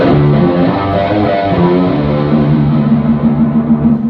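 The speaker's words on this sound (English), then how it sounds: "Now my Roland pickup, I've tuned the guitar down 5 semitones," Electric guitar through a Roland pickup, tuned down five semitones, plays low, dense sustained chords, washed in distortion and a touch of echo, loud and continuous without any voices.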